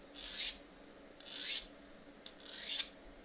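Scissors blade honed on a sharpening stone to perfect a 45-degree edge: three close, even gritty rasping strokes at a steady rhythm, each rising then stopping, with quiet pauses between.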